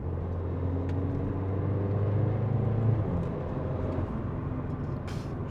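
Mercedes CLA 45 AMG under half throttle on an alpine road in the Swiss Alps, a low steady engine drone swelling gently then easing, heard from inside the cabin without talk.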